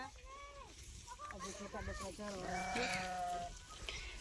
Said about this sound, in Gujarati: જો મિત્રો ઘેટા બકરા ચરે છે